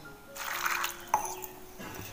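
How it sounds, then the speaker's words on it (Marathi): Water pours into a pressure cooker holding white peas with turmeric and salt, giving a short, close splashing gush that fades into a few faint trickles. "आणि पाणी टाकायचं"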